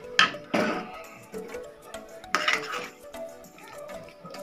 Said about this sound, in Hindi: लो और मीडियम फ्लेम पर हम इसे अच्छे से चिकन को मिक्स करेंगे।